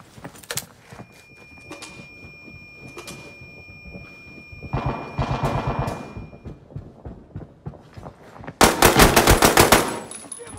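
Bursts of automatic gunfire in the shooter game Arena Breakout, with short rattling volleys and single shots, then two long, loud sustained bursts, close and sharp, with no one speaking.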